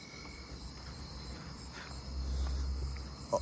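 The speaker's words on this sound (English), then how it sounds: "I hear a fall field cricket." Faint fall field cricket chirping at night in a neighbourhood, a few soft chirps against a quiet background with other distant insects, no voices.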